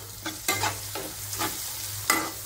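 Green chillies and tomato sautéed in a pan, with a soft steady sizzle broken by several distinct scraping stirs of a spatula, close and fairly quiet.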